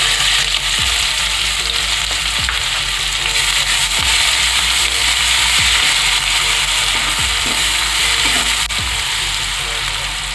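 Chopped onion dropped into hot oil already crackling with a spoonful of black mustard seeds, giving a loud, steady sizzle with scattered sharp pops and ticks throughout, no voices.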